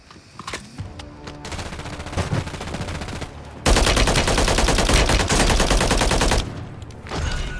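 Loud bursts of rapid automatic gunfire from Call of Duty, with scattered single shots before a sustained dense volley that then cuts off.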